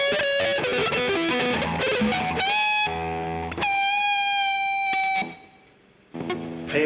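Distorted electric guitar played sloppily and rushed, a loud flurry of uneven picked notes and ringing chords, a sustained note fading, then a brief drop before playing resumes.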